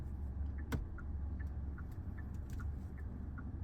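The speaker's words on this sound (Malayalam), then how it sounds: "റൈറ്റ് ഇൻഡിക്കേറ്റ് ഇടണം മാം" A car's turn indicator ticks in a quiet, regular rhythm of about two clicks per second inside the car during a driving lesson. The ticking sits over a low engine and road rumble, with one louder knock near the start.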